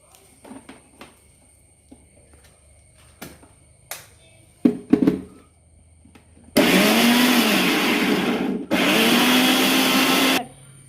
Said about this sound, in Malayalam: ഇത് പൾപ്പെടുക്കാൻ വേണ്ടിയിട്ട് നമ്മൾ മിക്സിയുടെ ജാറിലേക്ക് ഇട്ട് ഇത് മൊത്തം അടിച്ചുകൊണ്ട് വരാം